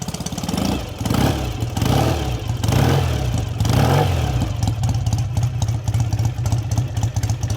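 A 1967 BSA A65 Thunderbolt motorcycle engine runs up close, with a loud, steady twin-cylinder throb and lumpy idle that swells in several short revs before settling back to a rhythmic, slightly clattery tickover.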